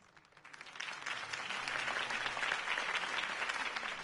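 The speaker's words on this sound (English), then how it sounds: "If only Mr. Wayne, my campaign's largest backer, could have heard that applause" Crowd applause swells after a campaign speech in the Batman: The Telltale Series video game, rising from a quieter start into steady, dense clapping that holds loud through the end.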